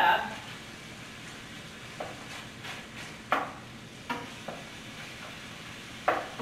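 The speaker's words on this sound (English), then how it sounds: "And stir my ground beef a little bit." Ground beef sizzling in a pan for lasagna, with a steady soft frying hiss under several sharp scrapes and taps of a spoon stirring and chopping the meat close by.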